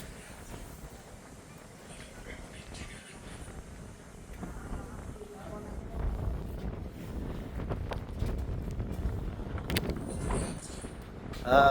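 Wind gusts buffet the microphone atop a hilltop view tower at Nagarjun ridge, a steady low roar that swells louder in the second half with occasional faint sounds in the background.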